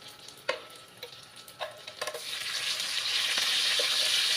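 Garlic sautéing in a pan, starting with a few sharp scrapes and clinks of a utensil stirring, then swelling into a steady, close sizzle that grows louder toward the end.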